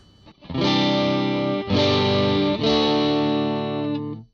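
Three loud, sustained overdriven electric guitar chords through a Joyo Tweedy amp, each ringing out with a thick, gritty distorted tone before the next is struck.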